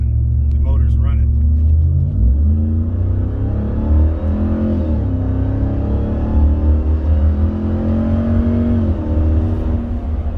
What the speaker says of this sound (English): You put the foot on the gas and motor's running.